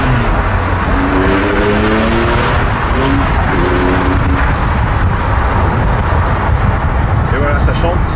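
A Porsche 997 fitted with SCART Ultima Récital silencers accelerates hard, its loud exhaust note climbing in pitch through repeated rising sweeps, close and continuous with a dense rumble underneath, while a voice murmurs faintly beneath it.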